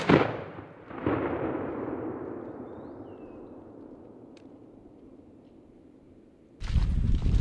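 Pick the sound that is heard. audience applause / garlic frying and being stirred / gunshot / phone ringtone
gunshot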